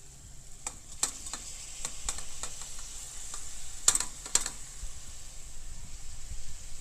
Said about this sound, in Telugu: ఇప్పుడు మనం అందులోకి టమాటో వేద్దాం.